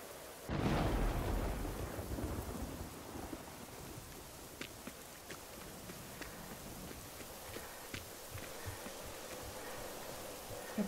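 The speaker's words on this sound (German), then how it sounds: "Naja, dann rennen wir durch Schwedens Regen." Rain falls steadily in a Swedish landscape in the video game Generation Zero, with a loud thunder rumble near the start and scattered sharp ticks over the continuous downpour.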